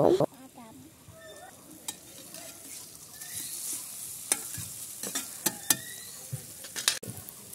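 Peanuts fry in a kadai with a low sizzle, broken by sharp scrapes and clicks of a spatula stirring against the pan; nobody talks.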